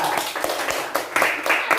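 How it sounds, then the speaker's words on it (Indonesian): Schoolchildren in a classroom clap for a classmate, a short burst of quick, uneven handclaps close to the recorder. "Iya, tepuk tangan buat Tirta."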